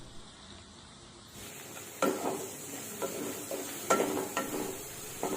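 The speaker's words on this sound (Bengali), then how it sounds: "1 মিনিট মতো কম আঁচে আমরা মশলাটাকে ভালোভাবে কষিয়ে নেব" Cumin and coriander powder stirred and fried on low heat in a pan for Pabda fish curry, with scraping spoon strokes and a few sharp metallic clinks over a faint sizzle, close by.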